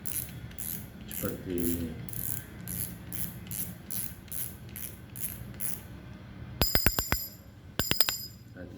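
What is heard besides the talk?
fishing reel clicker ratchet being turned clockwise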